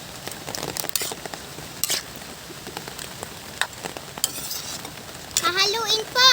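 A spoon stirs ginataang ugob (kamansi) with tinapa in a hot pan, giving irregular scraping and clattering over a soft steady sizzle, close up, with a brief tonal voice-like sound near the end.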